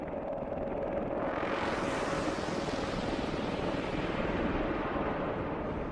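A Bell Boeing V-22 Osprey tiltrotor flies overhead in Iraq, its loud, steady broadband rotor and engine roar building after the first second and holding for several seconds, with no voices.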